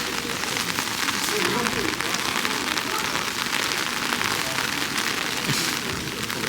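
Heavy rain falls in Shanghai as a dense, steady hiss of drops hitting surfaces close by, unbroken and loud throughout.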